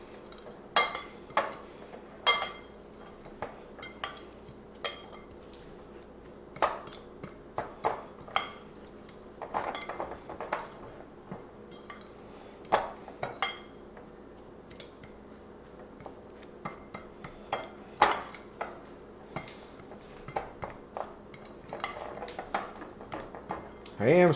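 A utensil clinks and scrapes against a bowl in repeated irregular strikes while dry keto brownie ingredients with baking powder are mixed, close and clear.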